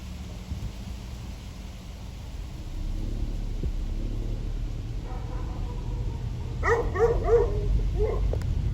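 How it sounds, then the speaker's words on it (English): A dog barks a few times toward the end, moderately close, over a steady background hum and noise in a neighborhood setting. "we still heard your bark"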